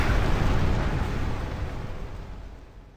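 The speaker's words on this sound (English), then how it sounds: "2, 1, 0... Now! Kaboom!" A loud in-game explosion from Resident Evil: The Umbrella Chronicles, a broad booming blast at full strength that slowly decays into a long rumbling roar over about three seconds, with no voices.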